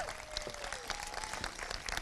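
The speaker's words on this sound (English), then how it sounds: "Let's give them a huge round of applause." An outdoor crowd at the Griffith Park performing arts center groundbreaking claps briefly, a faint, distant patter of applause with a thin tone running through it.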